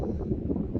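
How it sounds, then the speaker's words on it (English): Strong outdoor wind buffets the microphone in a steady low rumble that fluctuates, with no voices and nothing else clearly heard. "it is bloody windy today"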